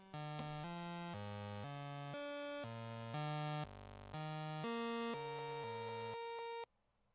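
Stepped, buzzy electronic tones from a Eurorack modular synth with a glitch effect, a rapid sequence of harsh pitched blips changing every half second before cutting off abruptly.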